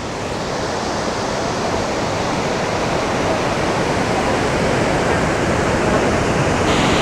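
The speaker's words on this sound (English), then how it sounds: "an even more dramatic waterfall on the river here" Great Falls on the Potomac River roars as a steady, loud, broadband rush of falling water, continuous and unbroken with no voices.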